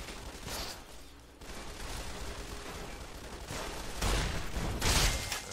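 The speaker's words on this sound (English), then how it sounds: "I'm hearing gunshots though." Gunfire in the video game Fallout: Tale of Two Wastelands sounds out as a few faint, distant bursts over low background noise, growing somewhat louder toward the end.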